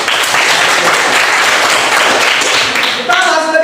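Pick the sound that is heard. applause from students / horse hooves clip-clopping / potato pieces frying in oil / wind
applause from students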